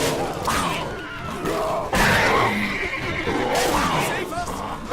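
Horses neigh and whinny in the open-world fantasy game The Witcher 3: Blood and Wine during a fight with panthers, several loud, drawn-out calls over game noise and someone talking.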